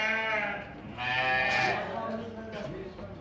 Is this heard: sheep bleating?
yes